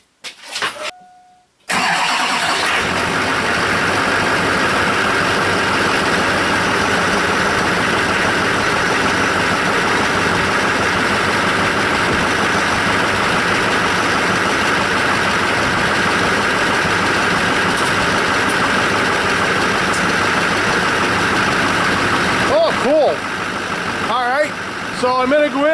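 A 2002 Chevy 2500HD with the 6.6L LB7 Duramax diesel, its alternator newly replaced, cranks briefly and fires up. It settles into a loud, steady, unbroken idle that runs close by for the rest of the time.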